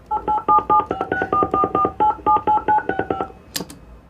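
Telephone keypad being dialed, a rapid run of about a dozen clear DTMF beeps in an uneven rhythm, close and loud, ending with a brief click-like burst.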